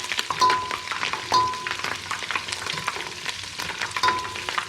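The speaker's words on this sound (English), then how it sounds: "So I'm starting by frying the garlic and the ginger." Garlic and ginger sizzle steadily in hot oil, with the scrape and clink of a utensil stirring the pan at intervals.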